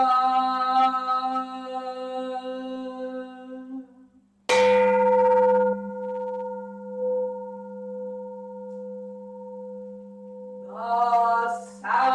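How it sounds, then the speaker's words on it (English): A temple bell at a Zen temple service, a loud struck tone with a long sustained hum that decays over several seconds, following an earlier ringing tone, with another strike near the end and no talk. "The sound of the temple bell booms for all to cease from"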